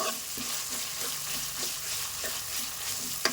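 Ginger garlic paste sizzling and frying in a pan, with a steady hiss and soft stirring scrapes at irregular intervals and a sharper clink near the end, with no voices.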